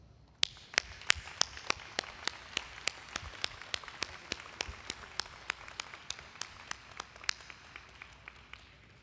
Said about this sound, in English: please stand so we can thank you properly with a round of applause